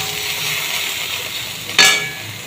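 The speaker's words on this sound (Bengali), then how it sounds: "আমার সোয়াবিনটা একটু তেলে হালকা করে ভেজে নিয়েছি" Soybean chunks fry lightly in oil in a kadai, giving a steady broadband sizzle with a brief louder burst of crackle and a stir near the end, no talking.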